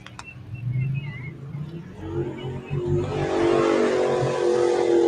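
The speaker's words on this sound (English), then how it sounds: "the 5-litre Mercedes buggy, 2 showing how it's done up that hill" A 5-litre Mercedes-engined buggy climbs a hill at a rally stage, its engine note rising and growing louder toward the end, a sustained roar building from a moderate distance.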